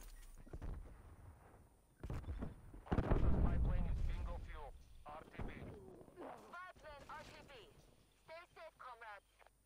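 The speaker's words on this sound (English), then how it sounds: "I'm throwing a nade over there." A grenade goes off in Call of Duty Cold War gameplay, a loud booming blast rolling out amid gunfire and explosions, with a voice talking over the action and game chatter in the background.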